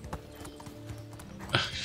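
Horse hoofbeats while riding cross-country in the game Medieval Dynasty, a quick rhythmic clip-clop close by, soft and steady, ending in a brighter rustling burst.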